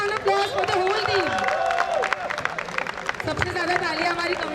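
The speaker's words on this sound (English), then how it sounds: "Give a huge round of applause for the whole team." Crowd applause for the organizing team at a volleyball league prize ceremony, steady clapping mixed with cheering, crowd chatter and voices over a PA throughout.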